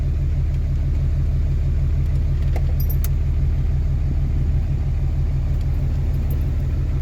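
A Cummins diesel truck engine with a recurring exhaust manifold gasket leak idles close by, a heavy, steady pulsing rumble with a few brief high-pitched squeals and chirps over it.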